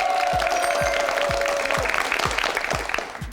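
A studio audience on a Korean TV quiz show gives steady, polite applause for a contestant who scored no points, with a sustained electronic tone over the first half and the clapping fading slightly toward the end.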